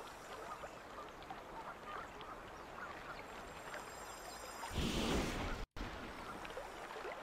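Seagulls cry faintly in the Harry Potter and the Order of the Phoenix PS3 game over a steady ambient wash, with a louder swell near the end and a brief cutout.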